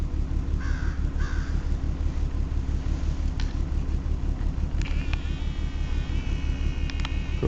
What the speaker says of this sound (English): Crow trying to tell me something?